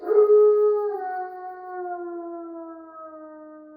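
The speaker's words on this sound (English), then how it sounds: "A distant howl, followed by an unmistakable silence." One long wolf howl rising briefly and then holding a smooth, sustained tone that slowly glides lower and fades, clear and alone against silence.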